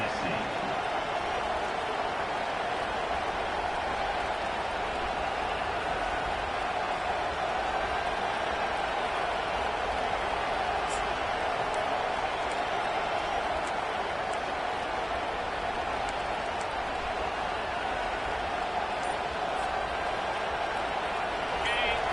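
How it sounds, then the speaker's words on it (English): A stadium crowd roars steadily at a college football game between DNA and Tennessee, a dense, continuous wall of cheering and noise that runs throughout, with a commentator talking over it. "This crowd even louder now on second down as they try to hold on."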